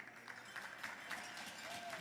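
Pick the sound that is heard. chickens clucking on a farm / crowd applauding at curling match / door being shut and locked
crowd applauding at curling match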